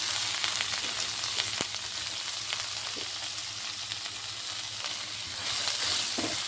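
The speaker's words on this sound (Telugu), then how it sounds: "ఇప్పుడు ఈ కాలీఫ్లవర్ వేసుకుందాం" Cauliflower fries in a pan with garlic paste and turmeric, giving a steady, close sizzle with occasional scrapes and clinks of stirring throughout, no talking.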